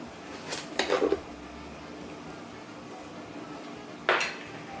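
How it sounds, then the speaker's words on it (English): Batter stirred in a bowl in a simple home kitchen: a quick run of spoon clinks and clatters against the bowl, a pause with only a soft background hum, then one more short clatter. "Okay, then you stir it."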